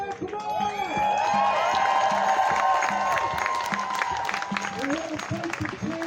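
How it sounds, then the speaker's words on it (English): Outdoor lockdown protest crowd in Toronto cheering loudly for several seconds, a dense continuous roar of voices with scattered whoops, claps and shouts rising over the mass of sound. "Please let me hear everybody cheer."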